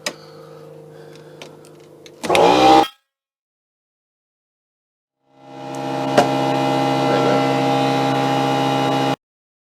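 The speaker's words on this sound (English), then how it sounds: "I'm going to turn the compressor back on because I think my pressure was going." A little air compressor inflating a new tyre on a Honda NC700X motorcycle hums in a steady buzzing drone, cuts off for a few seconds of silence, then ramps back up and runs evenly until it stops.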